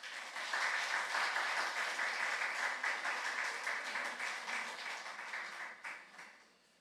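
A church congregation claps to welcome a missionary to the pulpit on Missions Sunday, a steady crowd applause lasting about six seconds before tapering off.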